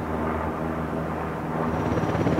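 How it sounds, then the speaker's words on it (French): A French combat helicopter with a rigid rotor flies at an air display, its engine and rotor producing a loud, steady roar that swells slightly toward the end. "cet hélicoptère a la capacité de faire des loopings avec son rotor rigide"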